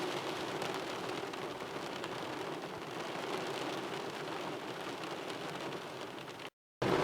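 Steady rain falls on the ground and surroundings for about six and a half seconds, a dense continuous hiss at even loudness, then breaks off abruptly near the end.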